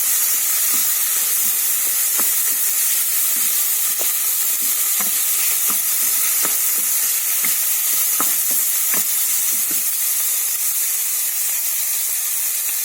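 Green beans sautéing in a pan for jeera beans rice, a steady sizzle and hiss throughout with frequent sharp clicks of a spoon stirring against the pan, moderately loud and close with no talking.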